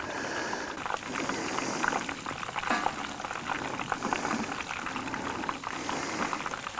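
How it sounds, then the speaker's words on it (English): Fish fries in a pan of hot oil, giving a steady, dense sizzle and bubbling that carries evenly and fairly loudly throughout, with no talking. "We're gonna keep frying. We're gonna fry a mess of fish up"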